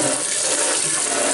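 Water gushes steadily from a pull-out kitchen tap sprayer, a loud, close, continuous hiss with no breaks.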